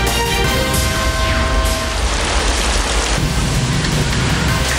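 Heavy rain and strong wind from Typhoon Nina in Quezon province roar in a dense, continuous wash, loud and steady throughout with no break.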